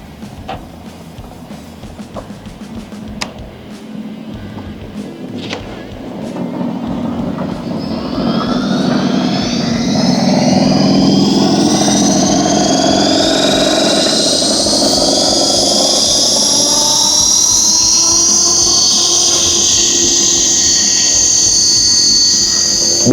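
A Tarot 450 RC helicopter spools up and takes off: a few faint clicks give way to a rising rotor and motor whine that grows loud over several seconds, then holds as a steady, close, high buzz.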